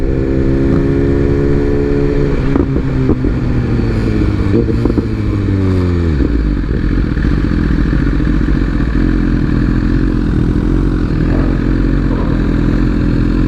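A motorcycle rides along a road past construction, its engine loud and close, revving up through falling gear-like pitch sweeps before settling into a steady cruising drone with wind rush.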